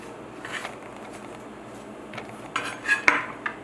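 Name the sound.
mixing chopped herbs together in a bowl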